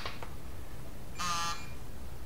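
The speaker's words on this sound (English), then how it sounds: "Got out Drew's fancy snap-on vibrating torque wrench." A Snap-on vibrating torque wrench, set to 35, buzzes briefly for about a third of a second at its set torque during big-block Mopar engine assembly, a close, moderately loud tone against a quiet background.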